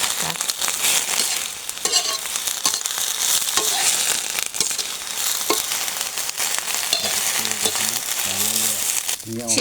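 Winged termites (maeng man) dry-roasting in a pan with pandan leaves and salt, a steady dense crackling sizzle with scraping stir strokes throughout, close and fairly loud.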